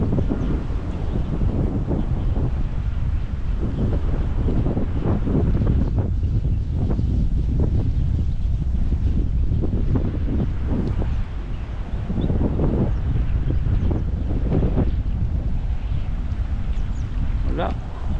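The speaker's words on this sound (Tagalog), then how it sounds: "Lakas ng hangin. Lakas ng hangin. Lamig." Strong, cold wind at sea buffets the microphone in steady, loud gusts that roar continuously throughout, with a boat and water noise beneath and a few faint bird sounds.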